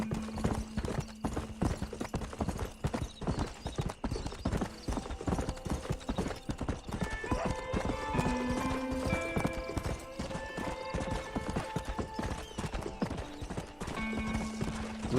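Steady clip-clop of horse hooves in a video game over a continuous game soundscape with music-like tones, lasting throughout; a horse briefly whinnies.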